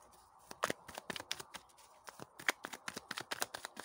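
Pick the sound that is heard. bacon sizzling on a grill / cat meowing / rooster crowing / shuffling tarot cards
shuffling tarot cards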